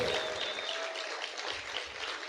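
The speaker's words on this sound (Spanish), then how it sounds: "Dale ese fuerte aplauso al Señor." A church congregation claps loudly and continuously in a steady, dense wash of applause filling the room, with some voices faintly mixed in.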